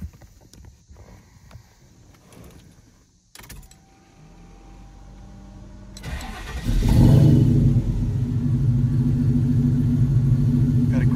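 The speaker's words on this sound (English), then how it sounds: "Got a great sound with those Flowmaster 50 mufflers, custom exhaust system" After a few quiet seconds of small clicks and shuffling, the LS3 V8 engine in a 1985 Chevrolet K10 truck, with Flowmaster 50 mufflers and custom exhaust, cranks and catches. It settles into a loud, deep, rumbling idle.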